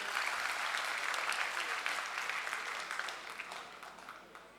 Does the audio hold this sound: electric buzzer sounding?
no